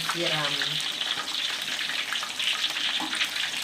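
Loud, continuous sizzling and crackling of gourami fish frying as hot oil is spooned over its tail, with a short burst of faint voice near the start.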